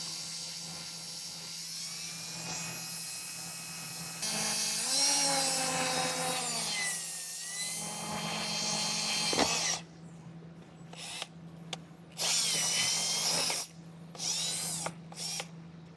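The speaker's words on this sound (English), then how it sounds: "we're going to step up to a 3/8 drill bit" A power drill with a 3/8 drill bit whines close by, its pitch rising and dipping under load, then stopping and starting in short bursts against a steady background hum.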